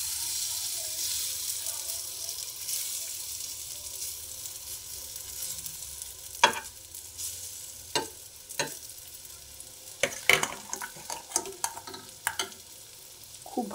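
Egg tikka frying in a wok, a soft steady sizzle running under intermittent sharp scraping and stirring clicks that grow busier and louder toward the end, with no talking.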